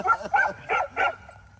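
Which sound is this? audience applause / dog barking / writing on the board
dog barking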